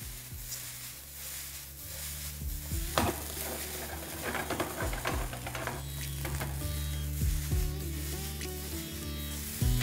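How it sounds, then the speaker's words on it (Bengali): Fried rice tossed in a pan over a high flame, a close sizzle with repeated scraping and stirring of a spatula against the pan and a few metallic clinks, no talking. "এবার ফ্লেমটাকে হাই করে সব কিছুকে মিশিয়ে নিলে আপনাদের ফ্রাইড রাইস কিন্তু পারফেক্টলি রেডি"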